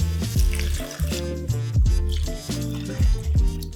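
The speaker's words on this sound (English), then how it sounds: "I'm gonna put 6 cups of water in right now." Plain tap water is poured into a cooking pot for a one-pot pasta e ceci, a close, steady splashing pour with gurgling swells that rise and fall.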